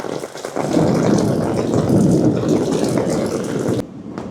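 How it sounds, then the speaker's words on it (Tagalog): Heavy rain pours down in Kuala Lumpur, a dense, loud roaring wash of water that swells quickly and stays strong before dropping off abruptly near the end, with no talking. "It's raining here in Kuala Lumpur right now."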